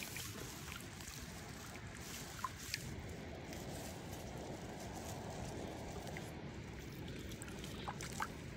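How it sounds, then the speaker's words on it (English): A small outlet stream in Rocky Mountain National Park runs steadily nearby, with continuous broadband water rush and faint splashy trickles throughout, no voices. "Been fishing this little outlet stream here."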